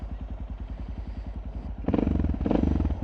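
A Suzuki DR650 motorcycle's single-cylinder engine thumps at a steady idle, then the throttle opens and the pulsing grows louder and faster, heard up close.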